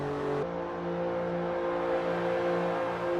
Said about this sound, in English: You're listening to the distinct sound of a V6 engine. That's what these Buicks are running.